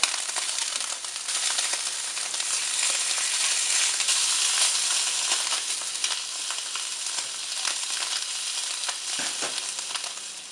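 Steak sears in hot oil in a pan, a loud, steady, close sizzle that crackles continuously for about ten seconds with no voices over it.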